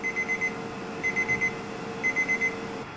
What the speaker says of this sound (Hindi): हमने ये टाइमर स्टार्ट कर दिया